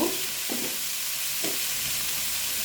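Potatoes and onion fry in a covered pan over a low gas flame, a steady soft sizzle and hiss running throughout with a couple of brief scrapes or clinks, no voices.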